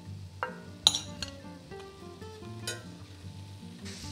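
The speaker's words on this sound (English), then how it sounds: "In the same skillet, melt 2 tablespoons of butter." Butter melts in a skillet with a soft sizzle, punctuated by a few sharp utensil clinks against the pan and some light scraping, fairly quiet and close.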